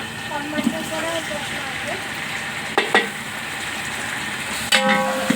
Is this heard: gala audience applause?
no